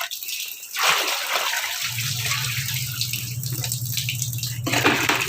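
Water gushes steadily from a tap into a basin filled for rinsing laundry, a broad rushing wash that deepens into a fuller, lower fill tone as the level rises, close and continuous throughout.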